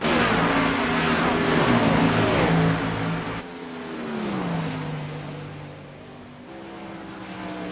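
Stock race cars roar past on the oval at Darlington Raceway, with loud engine drones whose pitch falls as they pass and then rises again as more cars approach.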